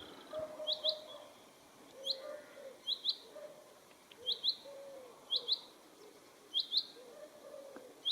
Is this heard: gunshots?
no